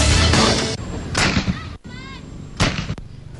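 A boga, a homemade bamboo cannon used as a banned firecracker, fires several loud booming blasts, each a sharp burst with a short rumbling tail. Faint voices can be heard between the bursts.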